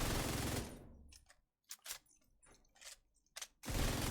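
Gunfire in The Division 2 comes in loud, close bursts: a heavy volley, then several short clustered shots separated by brief quiet gaps, ending in another sustained volley.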